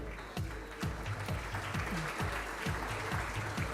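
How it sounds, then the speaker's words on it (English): Audience applause at a nursing award ceremony, heard as a fairly quiet, steady patter of clapping across the hall, with a rhythmic mechanical-sounding pattern running underneath. "I'm glad that I'm not having to prompt for the applause"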